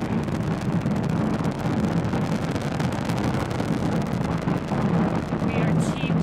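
A Falcon 9 rocket lifting off on its nine Merlin first-stage engines during a crewed Dragon launch, a distant steady broadband roar that holds level throughout without gaps.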